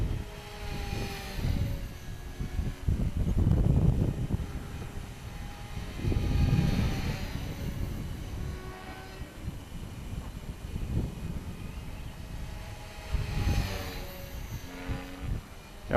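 An HK450 Pro RC helicopter flying on a windy day, its motor and rotor whine shifting in pitch as it passes, with gusts of wind buffeting loudly near the recorder.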